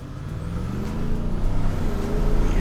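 A 2019 Ford F-150 Limited pickup with a turbocharged engine pulls away from a stop, heard from inside the cab. Its low, loud drone climbs steadily in pitch as the truck accelerates, with no talking.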